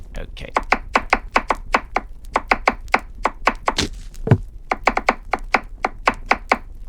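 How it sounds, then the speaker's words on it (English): Onion, carrot and celery being chopped with a knife on a board, a quick, steady run of crisp, close chops with a brief voice sound partway through. "Chop the onion, carrot, and celery and add them to the pan."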